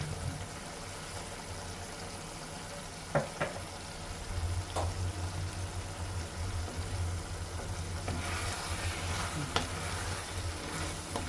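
Chilli chicken curry with kasuri methi sizzles steadily in a pan while being stirred, giving a continuous close frying hiss with occasional spoon scrapes and knocks against the pan.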